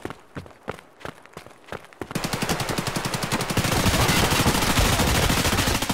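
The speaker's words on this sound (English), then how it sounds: "Why are you still shooting?" Gunfire in the Escape From Tarkov video game: a few spaced single shots, then a loud, sustained rapid burst of automatic fire that keeps going for several seconds, fairly close; no one speaks.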